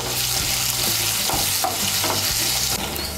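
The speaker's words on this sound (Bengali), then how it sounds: "আলুটাকে হালকা একটু ভেজে নেব।" Two medium cut potatoes lightly frying in oil for a raw pumpkin curry, a loud continuous sizzle with rhythmic scraping and stirring strokes against the pan.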